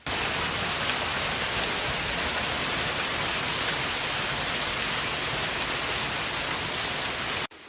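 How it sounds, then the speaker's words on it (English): Heavy rain pours down during a giant hailstorm in Edmonton, Canada, in a steady, dense roar of hiss that holds constant before cutting off abruptly. "Rain began to pour in heavy sheets"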